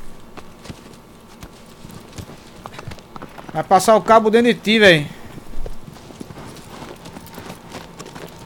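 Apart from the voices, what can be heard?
horse hooves clip-clopping in Shadow of the Colossus video game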